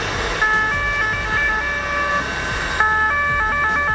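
A police vehicle's siren wails close behind motocross riders on a road in Thailand, its rising and falling tones loud and continuous over the rumble of passing engines.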